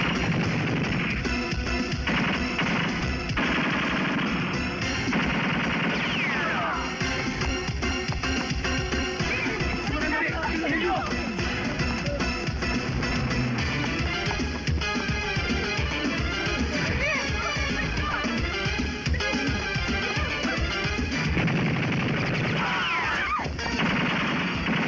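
Gunfire during a shootout in a full-length Eddie Garcia movie, with dense bursts of rapid shots and crashing impacts over a continuous loud backdrop, and voices briefly heard amid it.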